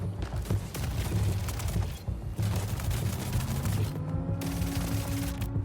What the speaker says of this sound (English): This gun sounds amazing. It sounds freaking amazing. It just shreds.